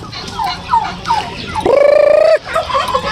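A turkey lets out a loud, bubbling gobble, a rapid warbling call lasting under a second amid other birds clucking and calling nearby.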